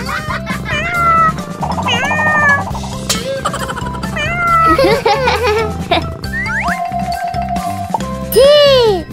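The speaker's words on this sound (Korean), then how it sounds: "캣, 고양이." Cartoonish cat meows in a children's toy show, several rising and falling meows repeated over playful background music, loud and close.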